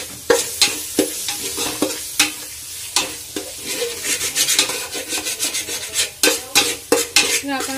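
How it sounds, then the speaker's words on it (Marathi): Chutney masala stirred and sautéed in oil within a gravy in a pan, giving a steady scraping and stirring rhythm of repeated strokes over a soft sizzle, close, with no talk. "जो चटणी मसाला मी घेतलाय मगाशी तो असा ग्रेव्हीमध्ये तेलात परतताना आपल्याला टाकायचंय"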